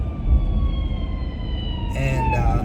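A fire truck or ambulance siren heard from inside a car as it passes on the road, a wailing tone gliding steadily downward, joined near the end by a second brighter siren and road rumble.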